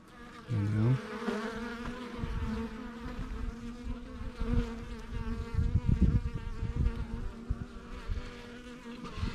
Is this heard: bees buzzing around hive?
yes